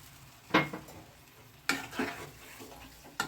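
Potato curry with chopped tomato is stirred in a pan after a cup of potato boiling water goes in, giving three or four separate scraping, sizzling strokes with quiet gaps between them and no voices.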